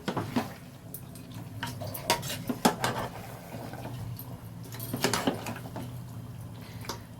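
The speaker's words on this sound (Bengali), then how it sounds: "দেখো ভালো করে কষতে থাকছি।" Mutton with potatoes and green peas is stirred in a wok, with a soft continuous sizzle under irregular scraping and clinking strokes of a spatula against the metal, heard close up and without any talking.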